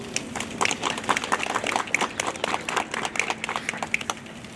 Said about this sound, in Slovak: Zaslúži si naozaj jeden veľký potlesk.